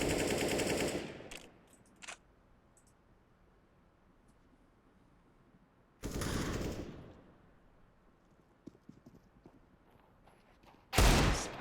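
Gunfire in a Counter-Strike match on the Mirage map comes in three loud automatic bursts, at the start, the middle and the end, separated by quiet stretches with faint clicks and steps.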